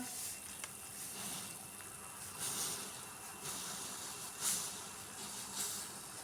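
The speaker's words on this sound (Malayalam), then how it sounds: "ഇപ്പം നമ്മുടെ വെള്ളമൊക്കെ നന്നായി തിളച്ച് മറിയുന്നുണ്ട് കേട്ടോ" Salted water boiling vigorously in a pot, a steady close hiss and bubbling roar that holds throughout with slight swells.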